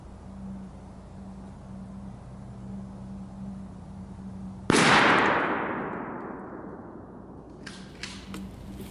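A single sharp, loud gunshot from a Remington 870 20-gauge turkey shotgun fired at a 30-yard target outdoors, with a sudden blast that decays over a couple of seconds into quiet, followed by faint small knocks.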